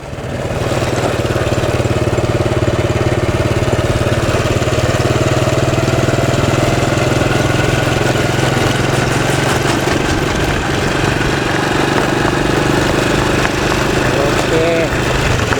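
A motorcycle engine idles steadily and loudly close by, a continuous low rumbling drone that holds for the whole stretch outdoors in a rural village.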